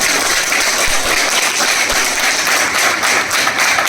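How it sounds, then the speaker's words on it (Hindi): An audience at an Alhayat Group company event in Chakwal claps in a loud, dense, continuous wash, with no talk over it. "मैं चाहता हूँ आप लोग एक बार ज़ोरदार ताली बजाएँ"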